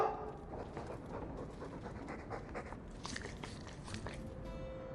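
A Mabari war dog from the game Dragon Age 2 pants close by, with steady quick breaths and some chewing or crunching noises mixed in, and no one talking.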